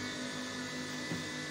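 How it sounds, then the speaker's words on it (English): A sewing machine stitches through a waistcoat's back panel, front panel and lining layered together, giving a steady, even motor whir with a slight bump near the end of a short burst, with no voices. "So you're sewing this down."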